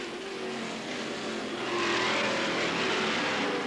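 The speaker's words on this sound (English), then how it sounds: "The rest of the cars streamed through as the leaders powered their way to corner 4" Can-Am race cars with 5-liter Chevy engines racing on a circuit, a rising engine roar swelling louder midway as cars stream past, a continuous blare from near to moderate distance, no voices.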